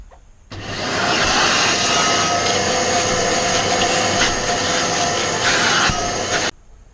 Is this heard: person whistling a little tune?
no